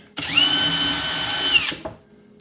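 A power drill whirs at high speed for about a second and a half drilling a pilot hole through a jig for a kitchen spice drawer, then stops abruptly with a brief clatter, loud and close.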